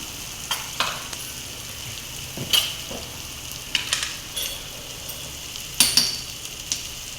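Chopped ingredients sautéing in a hot pan for a spicy vada pav potato filling, with a steady low sizzle broken by sharp clinks and scrapes of a spoon stirring at irregular intervals.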